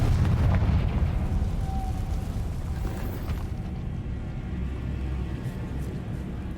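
A Confringo spell explosion in the Hogwarts Legacy video game bursts loudly at the start, then a deep rumbling roar slowly fades over several seconds.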